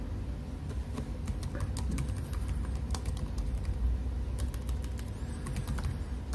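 Keys clatter on a Dell Latitude 7390 laptop keyboard as a search is typed into a browser, a quick, irregular run of light clicks close to the microphone over a low background hum.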